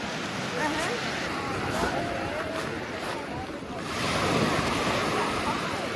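Sea waves wash onto the shore in a loud, continuous surf roar with gusty wind buffeting the microphone, swelling slightly toward the end.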